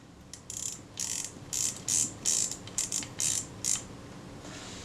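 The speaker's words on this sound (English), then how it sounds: "Put the advance knob in place." Small metal clicks and ratcheting from a Kodak Retina II type 142 camera's advance knob as it is fitted back on, a close, quiet series of about eight short bursts with brief pauses.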